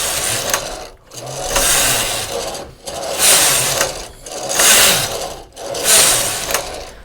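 A knitting machine carriage is pushed back and forth across the needle bed at tension setting 10, making repeated rasping, ratcheting passes about every second and a half with brief pauses between rows, close and fairly loud.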